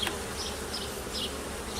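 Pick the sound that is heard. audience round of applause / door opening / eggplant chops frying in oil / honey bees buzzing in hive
honey bees buzzing in hive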